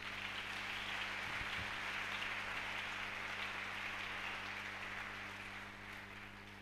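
A church congregation applauds steadily in a broad, even wash of clapping that holds for several seconds and fades slightly at the end, heard from a distance in a reverberant hall.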